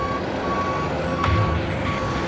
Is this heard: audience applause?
no